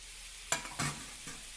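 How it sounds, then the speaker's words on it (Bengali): Eggplant and potatoes stirred together while frying in a pan, a few brief scraping stirs with soft sizzle in a quiet kitchen. "বেগুনটা ওর মধ্যে দিয়ে এবার সব একসাথে ভালো করে একটু ভাজা ভাজা করে নেব"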